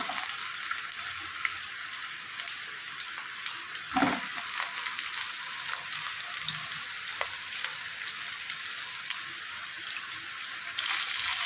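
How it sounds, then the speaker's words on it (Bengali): Pieces of pointed gourd fry in hot oil with salt and turmeric, giving a steady close sizzling hiss with occasional pops and a brief stirring clatter, without any talk. "এবার এই তেলের মধ্যেই পটলগুলো ভেজে নেব"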